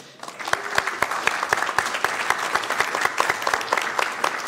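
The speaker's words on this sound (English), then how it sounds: "Let's give her a big round of applause" An audience claps in a steady round of applause at a Sacramento Hispanic Heritage Month recognition event. Dense, sustained clapping runs for several seconds, close and loud, with no voices over it.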